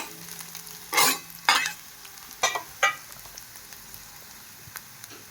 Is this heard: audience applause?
no